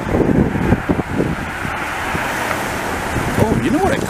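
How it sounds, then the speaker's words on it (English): Cold wind gusts along Rue Ontario in Montreal's Hochelaga district, buffeting the microphone with a steady low roar as someone talks over it. "Oh, there's a cold wind now."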